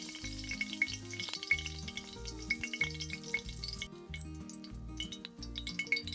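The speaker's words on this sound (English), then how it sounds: "So the oil is hot. I'm gonna start by putting in some pimento." Pimento frying in hot coconut oil in an outdoor country cooking setting, a steady close sizzle with light stirring and occasional clinks, no voices.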